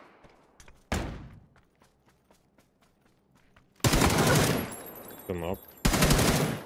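Bursts of automatic gunfire in a PUBG ranked squad match, an SM-24 among the weapons: a sharp shot near one second, then long loud volleys around four and six seconds, with a voice speaking briefly between them.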